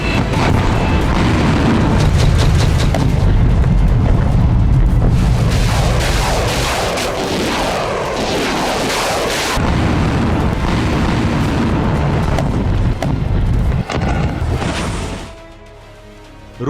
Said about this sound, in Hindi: सैकड़ों मिसाइल और ड्रोन अटैक से कीव में खलबली मचा दी।